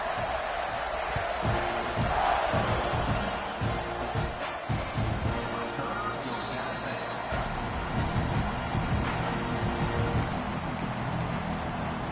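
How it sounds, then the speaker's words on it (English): A large crowd at an SMU football game roars steadily throughout, a dense, continuous wash of cheering and noise with no break. "This crowd bringing the energy and noise early."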